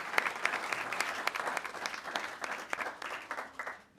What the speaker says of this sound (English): I'd really appreciate it if you could give a round of applause for the excellent panelists today